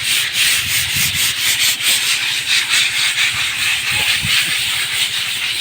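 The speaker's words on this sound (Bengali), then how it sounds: "প্রত্যেকে একটা একটা দেয়াল করে ঘষে ঘষে ময়লাগুলো উঠিয়ে" Students scrub dirt off a high school wall by hand, producing loud, close, rhythmic rubbing and scraping strokes like sanding, repeating steadily with a hissy, gritty texture and no talking.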